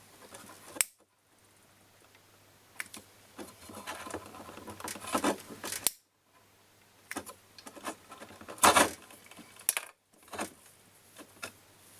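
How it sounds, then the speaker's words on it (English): Sharp snips of wire cutters trimming a wire end during an LED modification on an SSE external signal meter, several crisp clicks and ticks spread across a quiet workbench scene with small handling noises between cuts. "I'll just snip that off and we'll start afresh."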